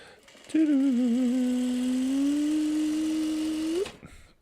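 A sewing machine stitches a quilt block in one continuous run of about three seconds, a steady close motor whine that starts and stops abruptly, with no talking.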